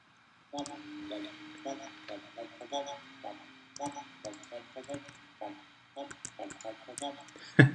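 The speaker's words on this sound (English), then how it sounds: "humming in the background, and then in another track me just going womp womp womp womp womp womp" A person hums a soundtrack for the Ludum Dare 32 game Potato King, singing short, repeated voiced tones in an uneven rhythm. The hummed notes are close, fairly quiet and heard alone.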